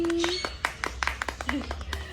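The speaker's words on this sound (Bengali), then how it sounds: "হ্যাঁ, সবাই হাততালি" An audience claps for the winner of a children's dance contest: scattered, uneven hand claps of moderate loudness, with voices talking and calling out over them.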